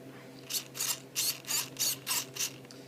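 A repaired RC micro servo runs in short bursts, seven quick buzzing whirs of its tiny geared motor evenly spaced over three seconds, close and fairly quiet with nothing else heard.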